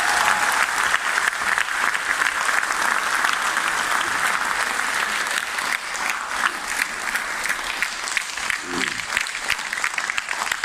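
A seminar audience claps loudly and steadily, a thick sustained wash of many hands with faint voices mixed in, holding at the same level throughout.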